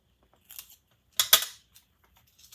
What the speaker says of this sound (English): So I'll just take my scissors